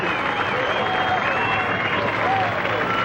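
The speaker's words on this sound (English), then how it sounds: "the people are standing and cheering" A large arena crowd applauds and cheers steadily after a winning diving competition dive in the 1970s, a dense continuous roar of clapping with whistles and shouts rising above it, close and loud throughout.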